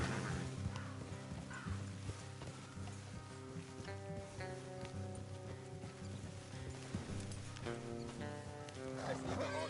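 Horses in the Red Dead video game, with hooves clip-clopping and brief snorting amid a steady musical score, fairly quiet and with no talk.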